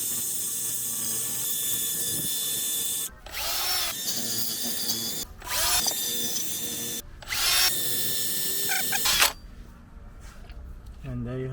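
A power tool whirs in three loud bursts against a car brake hub during front and rear pad and disc work on a 2018 Seat Ibiza FR or VW Golf, with steady background noise between the bursts.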